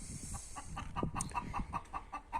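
A rooster on a farm gives a run of short, evenly spaced clucking calls, close and clear, with a faint hen-like cluck under them.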